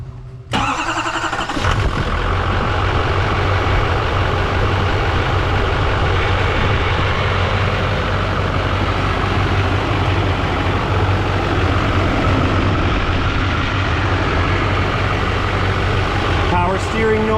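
A newly rebuilt truck engine cranks briefly and catches, then settles into a steady, loud idle that runs close by without a break, a faint voice audible over the engine.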